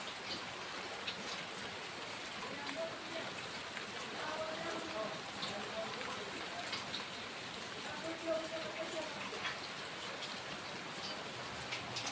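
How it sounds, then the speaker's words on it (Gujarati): Steady rain pours down during a thunderstorm in a village, a soft continuous hiss with faint scattered tones and no clear thunder. "હવે લાઈટ તો ગઈ અને વરસાદ ચાલુ છે"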